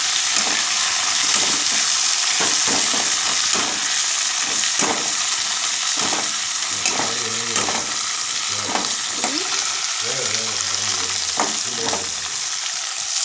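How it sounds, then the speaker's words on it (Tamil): Onions and beans frying in oil in a pan, a steady close sizzle with intermittent stirring scrapes and clatters throughout, no voices. "வெட்டி வச்சு இந்த வெங்காயத்தையும் அந்த பீன்ஸையும் போட்டாச்சு. நல்லா பொரியட்டும்"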